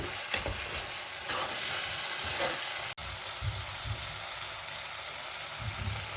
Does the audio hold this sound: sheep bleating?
no